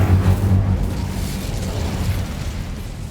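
An Incendio fire spell is cast in the video game Hogwarts Legacy. A deep, rumbling burst opens loud and slowly fades into a lingering low roar, with no talking.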